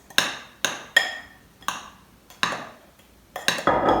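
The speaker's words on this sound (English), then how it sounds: "The baking powder I can add it to the flour. Give this one a good mix." Baking powder is mixed into flour in a bowl with a series of sharp, evenly spaced clinks and scrapes, about eight strokes close by, ending in a brief rough scrape, with no talking.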